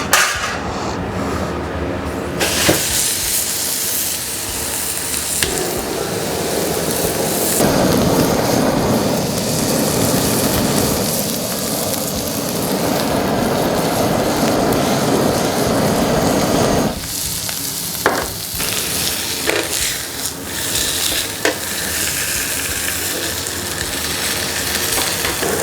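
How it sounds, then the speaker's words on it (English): Loud, steady crackling roar of a tomahawk steak searing on a hot grill with blowtorch flame added, dense hiss filling the whole stretch with brief shifts in intensity. "We're going to go sear on this and add a bit of the blowtorch action too"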